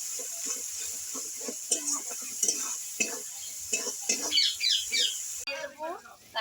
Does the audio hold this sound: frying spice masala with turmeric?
yes